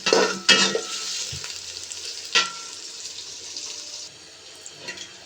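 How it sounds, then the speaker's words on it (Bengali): Sliced onions fry in hot oil for pulao beresta as a spoon stirs them, sharp scraping bursts over a crackling sizzle that settles into a softer, steady fry. "এখন হচ্ছে ভালো করে নেড়ে চেড়ে আমি টোটাল হচ্ছে পেঁয়াজগুলোকে একেবারে ভেজে নেব।"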